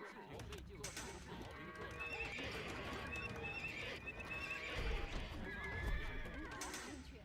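Cavalry horses in the video game Age of Empires whinny repeatedly and clatter their hooves amid battle noise, while a player talks over the game sounds.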